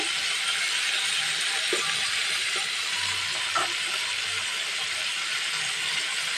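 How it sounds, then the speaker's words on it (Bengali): Ginger garlic paste frying in hot oil for a spicy chicken curry: a loud, steady sizzle that hisses continuously, close by, with a few faint clinks of stirring underneath. "এখন আমি আদা রসুনের পেস্টটা দিয়ে দিচ্ছি।"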